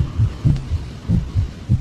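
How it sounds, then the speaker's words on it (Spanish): A heartbeat effect beneath a Spanish reading of Poe's The Tell-Tale Heart, paired low thumps repeating about every half second, deep, close and steady, heard alone without narration. "los latidos se oían cada vez más fuertes, más fuertes"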